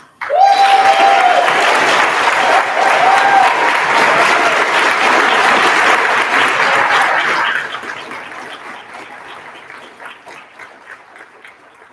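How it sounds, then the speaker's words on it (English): A banquet audience gives loud, dense applause for a speaker's parents, a full burst of clapping lasting several seconds before tapering to scattered claps and quiet. "I would like to please give a big round of applause to my parents, Dennis, Jane, and Summer."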